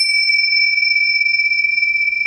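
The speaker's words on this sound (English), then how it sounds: "Trying to make the bells go and you keep on missing." Two steady, pure bell-like tones ring together at an even level, sustained without a break and with no talking.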